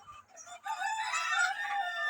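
A desi rooster crows once, close and clear, its long strained call stretching for over a second after a brief quiet pause.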